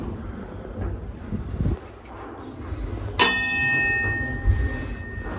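A single loud bell strike with a long ringing decay in the tower of Geneva's cathedral, heard against wind noise and a faint low rumble, followed by a softer knock.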